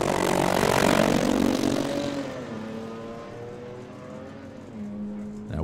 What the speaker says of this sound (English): So that is a small block turbo stick shift bracket car.